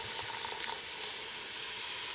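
Red wine hitting a hot beef stew pan to deglaze it, giving a steady, close hiss of sizzling that holds evenly throughout, with no voices over it.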